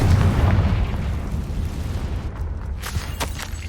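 A Confringo fire spell explodes in the Hogwarts Legacy video game, giving a heavy, loud, close boom with a deep rumbling tail that slowly fades over several seconds, with a few crackles near the end.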